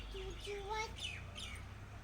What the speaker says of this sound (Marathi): मग कसं चिवचिवाट करतो बघ